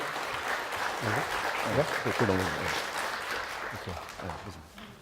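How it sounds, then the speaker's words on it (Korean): An audience claps to welcome a lecturer at a special lecture on investing in US stocks, a steady, moderately loud round of applause heard under someone talking throughout. "한국열린사이버대학교의 이하늘 교수님, 한 박수로 맞이해주시죠"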